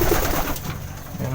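A pigeon coos inside a home loft, a short low murmuring call lasting about a second over steady background noise.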